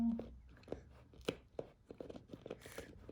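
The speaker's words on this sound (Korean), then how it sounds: "바들바들 떨면서 이걸 씹어" A teething pet gnaws on a chew item close by, giving a run of soft, irregular crunching and tearing bites under faint background sound.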